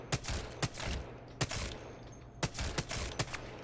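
Rapid gunfire rings out from the Apex Legends video game during a console aim drill, with sharp shots in quick clusters and short pauses between bursts, loud and close, with no voice heard.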